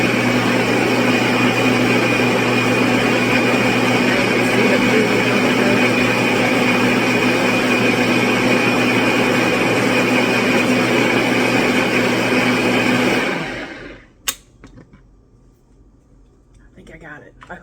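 A Magic Bullet blender whirs steadily at high speed through homemade mayo, a loud continuous motor whine that cuts off after about thirteen seconds, followed by a clack of handling and near silence.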